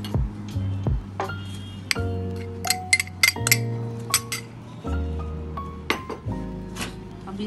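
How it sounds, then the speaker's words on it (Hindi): Butter and sugar being creamed together in a bowl, with repeated clinks and scrapes of a utensil against the bowl in an irregular rhythm, close and fairly loud. "We will cream butter and sugar together."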